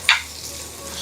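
Onions sauté in a pan at home on a medium flame, giving a soft, steady sizzle with one brief sharp crackle near the start.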